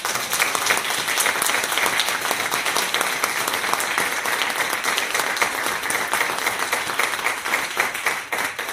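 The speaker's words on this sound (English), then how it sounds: "can we just first give them a round of applause?" Sustained applause from an audience at a panel on Black land and home ownership, dense clapping holding steady for nearly nine seconds, loud and full with no voices over it.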